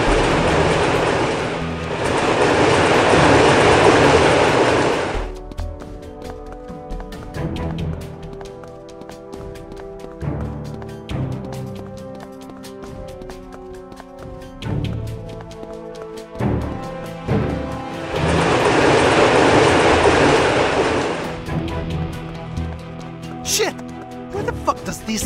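Subway train in the Kick-Ass 2 video game rushing past in two loud bursts of rumbling, clattering noise, with game music and effects running between the passes.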